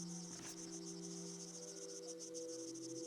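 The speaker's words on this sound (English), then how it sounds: "Cicadas." Cicadas buzzing steadily in summer, a continuous high, faint pulsing drone that holds level throughout with a low hum beneath it.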